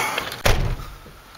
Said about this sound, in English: Get this door closed.